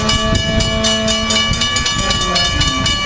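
An Amtrak passenger train of Amfleet I cars rolling in close by, a loud steady tonal rumble punctuated by rapid rhythmic clacks of wheels over rail joints.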